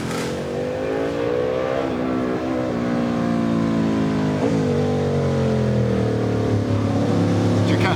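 A Ducati 900 SS motorcycle engine revs and runs loudly past at a speed festival, its tone rising and falling with throttle changes, steady and prominent throughout.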